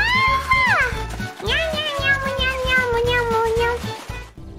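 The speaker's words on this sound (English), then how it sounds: "Normal cat." A cat's long, drawn-out meow sliding down in pitch, then a second wavering meow, fairly close and loud over a rhythmic thumping backing track.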